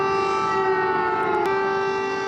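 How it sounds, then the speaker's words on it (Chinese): An air raid siren wails over Kyiv, a loud, steady, sustained tone that holds without break from start to finish with no voices. "乌克兰首都基辅开始响空袭警报"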